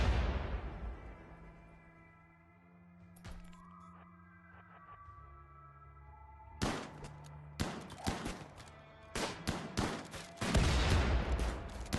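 Gunfire and grenade blasts from enemy attackers in the RimWorld video game: sparse clicks and tones early on, then dense bursts of rapid shots and bangs over the second half, loud and close.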